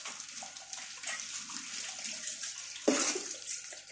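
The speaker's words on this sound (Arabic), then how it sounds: "هبدا كده اشطف." Running tap water rinses aluminum cookware in a sink, a steady close spray and hiss, with a sudden louder splash and clatter near the end.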